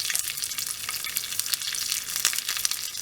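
Green chillies and curry leaves hit hot tempering oil, crackling and sizzling in a dense, steady spatter close up.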